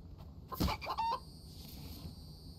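A single chicken clucks in the survival game The Infected, a short burst of squawky clucks over a quiet low ambient hum, with no talking.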